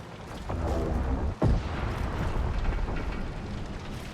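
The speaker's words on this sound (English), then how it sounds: "Sounds like explosions outside." Deep rumbling booms of video game explosions in Marathon roll on continuously, with a sharp louder blast near the middle, like distant explosions heard from indoors.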